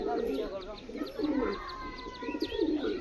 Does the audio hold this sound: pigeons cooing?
yes